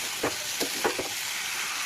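Chicken pieces fry steadily in a pan, giving a broad, even sizzle with a few soft stirring knocks near the start.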